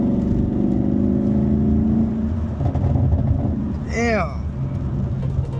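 A 2019 Chevrolet Camaro SS V8 engine rumbles steadily and then picks up as it accelerates, loud and close from inside the car, with a brief whistling tone and someone speaking briefly over it.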